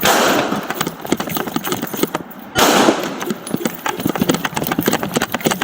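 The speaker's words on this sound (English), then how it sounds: "Officer needs help, shots fired." Gunshots fired during a police shooting in the LAPD Mission Area, heard as a rapid series of loud sharp bangs amid noisy, jostling movement, close and chaotic.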